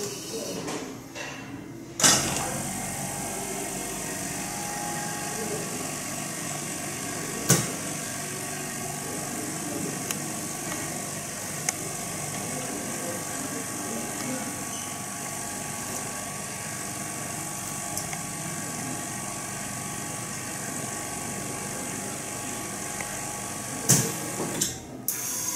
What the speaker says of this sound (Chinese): 将托盘推到最里面，同时按两个绿色按键启动。